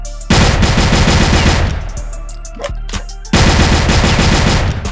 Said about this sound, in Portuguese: Eu atiro assim, pãozinho. Eu não consigo atirar rápido